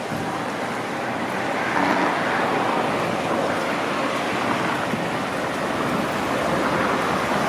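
Ocean surf breaking along the Mazatlan shoreline makes a steady, loud, unbroken roar of waves with no clear gaps, and no voices are heard.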